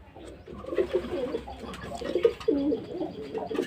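Pigeons cooing in their loft during the rainy season, several close, repeated throaty coos rising and falling in overlapping phrases over a soft background rustle.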